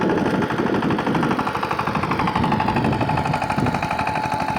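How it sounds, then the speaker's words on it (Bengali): A Saifing 28 plough tiller's engine runs steadily in a farm field, a loud, continuous close-up chugging with a rapid regular knock and no break across the whole stretch. "কোনো ইঞ্জিনের সাউন্ডটা অরিজিনালি রয়েছে কোনো পরিবর্তন হয়নি"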